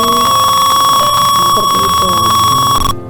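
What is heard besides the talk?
simulated fire alarm buzzer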